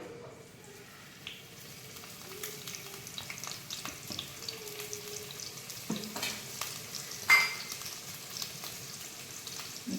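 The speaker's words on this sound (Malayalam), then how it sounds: "വെളിച്ചെണ്ണ ഒന്ന് ചൂടായി വരുന്ന സമയത്ത് ഇഞ്ചി വെളുത്തുള്ളി പേസ്റ്റ് ഇട്ട് കൊടുക്കും" Ginger garlic paste frying in hot coconut oil gives a quiet, steady sizzle with crackles, broken by a few soft stirring clinks and scrapes, close by and without talk.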